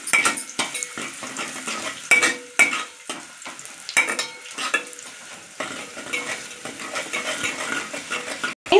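Onions are stirred and fried in hot oil, with a running sizzle broken by frequent sharp clinks and scrapes of a metal spoon against the pan, close up.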